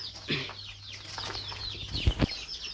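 Chickens forage around a farmyard, with scattered clucks, rustling, scratching and a brief flutter of wings at close to middle distance.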